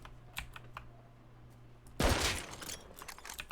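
Gunfire in the online survival game Rust comes as a sudden rapid burst of shots partway through, heard over faint keyboard clicking and low background noise.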